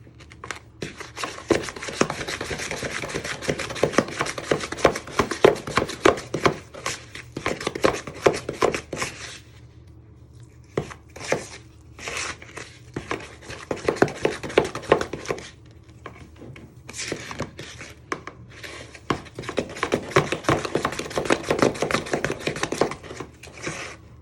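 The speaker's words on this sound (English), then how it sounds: "So you're just creaming them all in. Like a chop action to get it going." Cake mixture for a chocolate gateau creamed with a chopping action, a long run of rapid, close, rhythmic tapping and clacking against a bowl with a few brief pauses and no speech.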